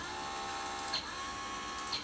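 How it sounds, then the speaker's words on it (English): A motor driver board's short circuit oscillating produces a faint, thin high squeal, heard twice in brief bursts about a second apart over a steady electrical hum. "That little squeal you hear is the short circuit oscillating for a longer period of time and giving enough energy for the motor to start."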